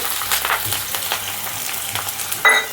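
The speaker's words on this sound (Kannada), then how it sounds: "ಸೇರಿಸಿ ನೀಟಾಗಿ ಫ್ರೈ ಮಾಡ್ತಾ ಇದ್ದೀನಿ" Chopped onions, curry leaves and cumin sizzle in a hot pan with oil, a close, steady crackle broken by scraping stirs and a louder hiss near the end.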